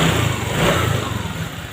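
A Honda Vario 125 scooter engine runs steadily just after starting, a close, even idle rumble with no talk over it.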